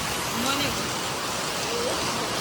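Heavy rain pours steadily as a continuous broadband hiss throughout, fairly loud and unbroken, with no clear voices over it.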